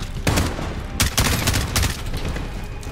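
Rapid machine gun fire in a Call of Duty Modern Warfare campaign battle, dense bursts of shots crackling loudly and continuously over a busy battlefield din.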